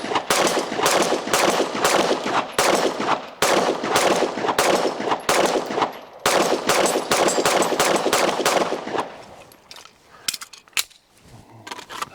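A Glock Gen6 pistol fires long, rapid strings of shots from standard Glock and Mech-Gar magazines at close range, sharp loud reports in steady bursts with brief pauses, trailing off into a few scattered shots at the end.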